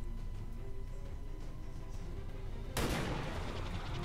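Gunshot fired in the video game XCOM 2, a single sharp loud burst cutting abruptly through quiet game ambience near the end, followed by a lingering noisy decay.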